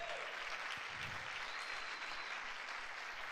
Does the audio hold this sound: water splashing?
no